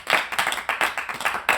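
A quick burst of hand clapping at a BTS live broadcast, several sharp claps in a loose uneven rhythm, close and moderately loud with no voices.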